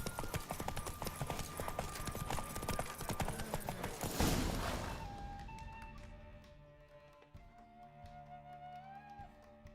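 Hoofbeats of the horse Roach racing in The Witcher 3, a dense, busy clip-clop run under game music and effects that fades into calmer tones after a loud swell midway.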